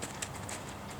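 Horse hooves clip-clopping at a walk during a riding lesson, a steady series of soft, fairly close footfalls over a low hum of ambient noise.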